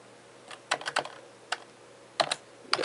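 Typing on a computer keyboard produces short, crisp key clicks, close and fairly quiet, coming in small uneven bursts with brief pauses between them.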